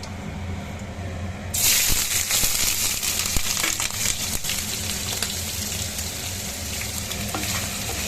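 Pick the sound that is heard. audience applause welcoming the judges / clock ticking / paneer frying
paneer frying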